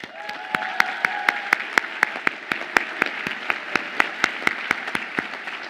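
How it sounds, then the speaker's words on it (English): The audience at a law school commencement ceremony in a large hall gives slow, evenly spaced claps with steady echoing rhythmic beats and a soft wash of crowd applause underneath. "Please join me in thanking and applauding them for the support and encouragement they have provided to you along your journey."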